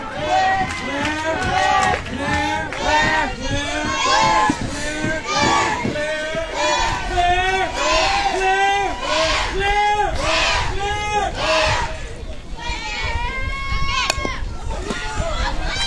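A crowd of Louisiana fans cheers and chants together through a 2019 Little League World Series softball game against Mexico, a loud, steady roar of many voices with rhythmic chanting throughout.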